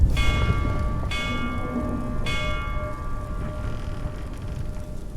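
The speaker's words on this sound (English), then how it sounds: "at least I can still ring the bell" A ship's bell rings three times at roughly one-second intervals in the video game Ship Explorer Battleship Bismarck, each clear metallic strike ringing out and then fading over steady background noise.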